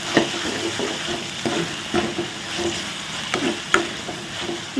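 Ginger garlic paste and tomato paste stirred together in a hot pan, with a steady close sizzle and repeated scraping strokes of a spoon at an uneven rhythm.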